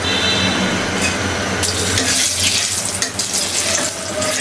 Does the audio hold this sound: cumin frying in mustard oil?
yes